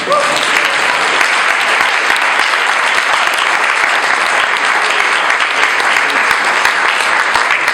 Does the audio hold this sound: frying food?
no